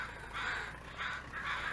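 Crows caw three times in a steady rhythm on a farm in the Farming Simulator video game, fairly clear against a low background hum.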